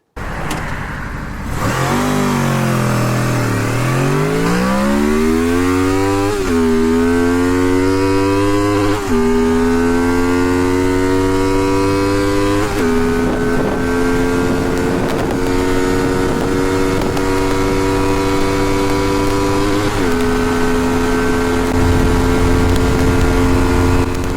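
A Honda VFR 800 V4 motorcycle with VTEC accelerates hard, its loud, close engine note climbing steadily in pitch through several gears, with a brief drop at each shift, and no talk.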